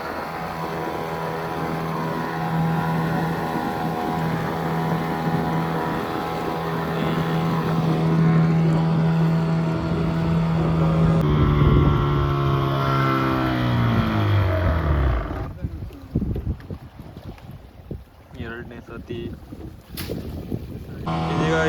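A fishing boat engine drones steadily and loudly at close range. Near the end the engine pitch sinks and winds down, leaving rougher, uneven engine and wind noise, with no speech.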